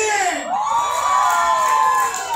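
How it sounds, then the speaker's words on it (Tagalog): A crowd at a team meeting cheers and shouts, with a rising whooping voice riding over a dense, loud din of excited people. "magpalakpakan na may kasamang hiyawan"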